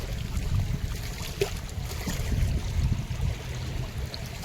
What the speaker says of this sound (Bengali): নৌকা চলে এসছে